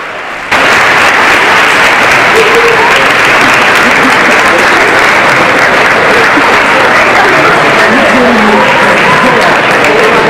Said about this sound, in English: It was a warm applause.